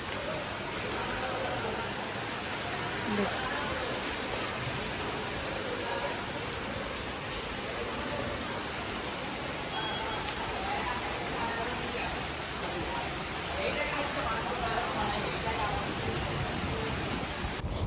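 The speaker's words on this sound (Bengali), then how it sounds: "অনেক বৃষ্টি হচ্ছে সকাল থেকেই।" Heavy rain falling outside, seen from a balcony with flowering plants, as a dense, even hiss that holds steady from start to finish, moderately distant.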